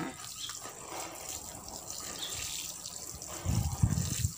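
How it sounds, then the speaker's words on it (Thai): Water is poured over newly planted green onions, a soft trickling and splashing that swells into a louder gush near the end, heard close with no talking. "เดี๋ยวใช้น้ำลดเลยนะคะ"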